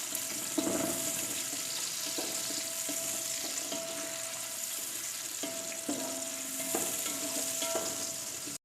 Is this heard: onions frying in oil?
yes